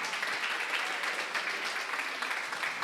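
A congregation at a praise and worship seminar claps together, a dense continuous burst of applause that stays level throughout.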